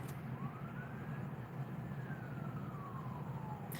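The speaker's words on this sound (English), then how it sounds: "You hear that siren?" A faint siren wails in the distance, its pitch slowly rising and falling over a low steady rumble.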